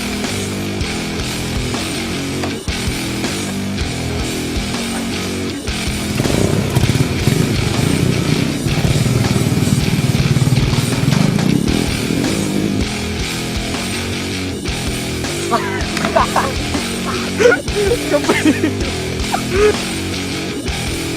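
A motorcycle engine runs close by, its rumble swelling louder for several seconds in the middle and then easing back to a steady idle, with a few thumps near the end.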